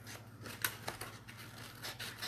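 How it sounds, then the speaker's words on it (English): Scissors trimming out printed paper squares for a quiet book, a few soft snips and rustles up close, quiet against a low background hum. "So each square just needs to be trimmed out."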